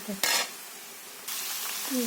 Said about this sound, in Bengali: এখানে আমি মাংস দিয়ে দিয়েছি। এবার মাংসটা আমি তেলের উপরে ভালোভাবে ভেজে নেব।